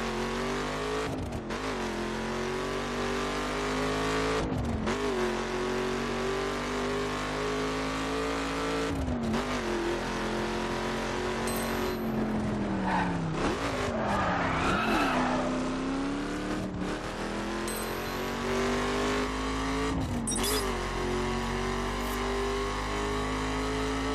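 A car is driven in The Crew on PS4, its engine droning continuously and shifting pitch as it revs through the gears, with brief tire squeals and skids midway and no talking.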